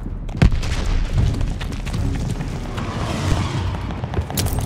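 Cannon fire in the Call of Duty Vanguard campaign: a sharp, loud blast near the start, then a dense, sustained rumble of battle with further booms and gunfire throughout, no talking.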